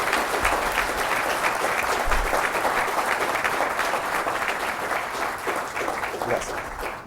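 An audience applauds a professor after a book presentation, a dense, steady round of clapping from many hands that holds evenly throughout, with no voices rising above it.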